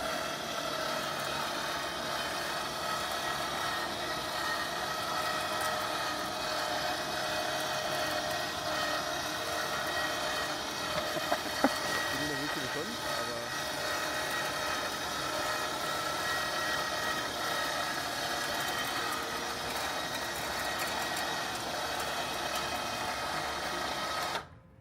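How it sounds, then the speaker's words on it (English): Remote-controlled hydraulic lift on an electric truck hoisting a 217-kilogram electric motorbike: a continuous, even motor whine and hydraulic hum runs steadily for the whole stretch, with a brief click near the middle and an abrupt stop at the end. "You plug it into the side socket and the hydraulic lift should operate."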